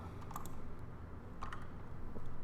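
Loud computer keyboard typing in clustered bursts of sharp key clicks, close to the mic, over a steady low background hum.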